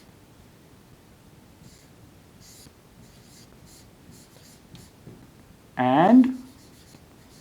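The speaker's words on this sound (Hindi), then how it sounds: "तो यहाँ पे हम लिख देंगे दिल्ली" Pen or marker writing out city names during a Class 6 maths lesson on integers, a soft scratchy stroking through most of the clip with a brief louder burst near the end, under faint speech.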